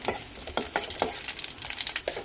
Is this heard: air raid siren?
no